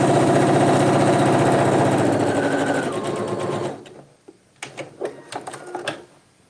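A sewing machine stitching pants runs in a fast, steady whir for several seconds, then stops, followed by a series of sharp clicks and clunks from the machine, close and loud.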